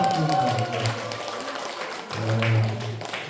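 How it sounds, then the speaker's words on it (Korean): Audience clapping at a side-business seminar in Jeonju, fairly soft and brief beneath a low hum and room noise, tapering over a few seconds. "다시 한번 뜨거운 박수 부탁드립니다"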